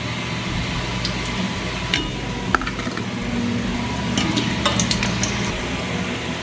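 Steady bubbling sizzle of gulab jamun sweets made from chhena deep frying in oil, with a few scattered clinks and scrapes of a utensil; no one speaks.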